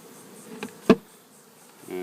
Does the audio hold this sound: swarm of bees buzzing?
yes